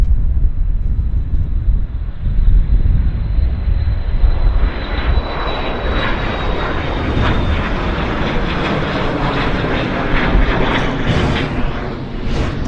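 Business jet at Vancouver Airport roars past, loud turbine whine and rushing engine noise rising steadily and holding strong, with some wind buffeting on the microphone.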